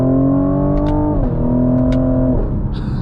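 A 2024 Cadillac CT5-V engine revs loudly from inside the cabin, its pitch climbing steadily and then dropping sharply at each of two quick paddle-shift upshifts.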